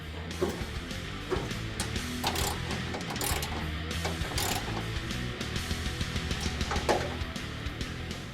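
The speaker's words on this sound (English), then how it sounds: "And tighten both screws up top here, and then we can tighten the bolt." Screws and a bolt being tightened on a fog light bracket of a 1965 Mustang: rapid ratchet clicks in short runs, close and clear, with no talking.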